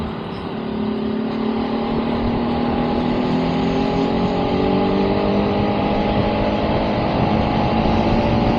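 Ducati and other big motorcycles cruising on a road during a New Year ride: a loud, continuous engine drone with steadily rising pitch, heavy wind rush, and no talking.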